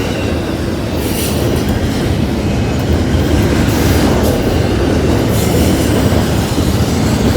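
A freight train hauling FedEx containers rolls steadily past, with a continuous loud rumble of railcars, rhythmic clickety-clack of wheels over rail joints and occasional squealing wheels, no voices.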